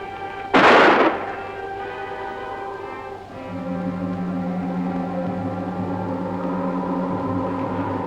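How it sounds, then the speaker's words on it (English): A single loud gunshot cracks early on, sharp and booming, then decays into a steady background drone of film score or ambient hum. "I hear a gunshot"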